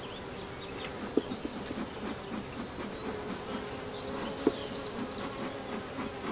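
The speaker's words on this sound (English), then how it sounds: "lots and lots of bees in here" Honeybees drone steadily in an open hive during a re-queening inspection, a close, even buzz that holds throughout, broken only by a couple of sharp clicks.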